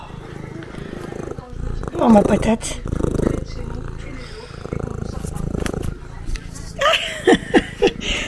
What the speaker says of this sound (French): Vous l'entendez ronronner?